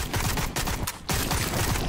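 AK rifle fire in a video game comes in rapid bursts of dense, loud shots, broken by a brief pause before resuming.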